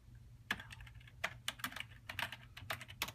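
Quick keystrokes on a computer keyboard while entering job details into a FileMaker database, irregular clusters of clicks close to the mic over a low steady hum, no voice.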